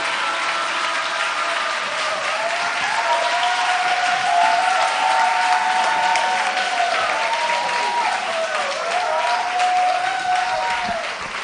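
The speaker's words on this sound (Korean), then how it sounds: "그 사랑과 환영의 마음으로 박수로 할렐루야로 환영하시겠습니다." A church congregation claps steadily to welcome a pastor, warm sustained applause filling the room, with some melodic tones and faint voices mixed underneath.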